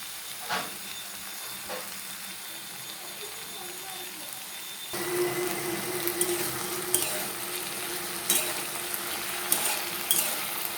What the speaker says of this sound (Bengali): সর্ষে বাটাটা দিয়ে কষিয়ে নেবো